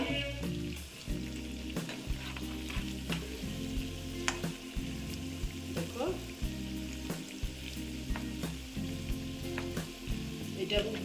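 Banana fritter batter frying in hot oil, a steady close sizzle and crackle running throughout with occasional louder pops and stirring clinks.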